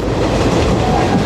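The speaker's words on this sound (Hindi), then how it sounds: "उसके साथ अभी पैरेलल रन हो रहा है हमारी इस ट्रेन का" Garib Rath Express running on the Mumbai–Jabalpur line, a loud close rumble of wheels and carriages with steady rolling noise, heard from on board.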